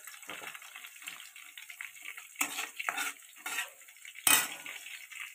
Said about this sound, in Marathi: मिरची गरम कराय म्हणजे तळाय टाकलेले आहे